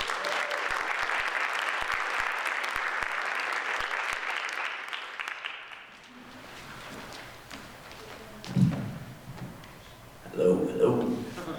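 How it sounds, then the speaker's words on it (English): An audience at a world folktales storytelling event applauds its first storyteller, with loud, dense clapping for about six seconds that then fades into quieter room noise, footsteps and a voice starting to talk. "let's please give a big round of applause for our first storyteller"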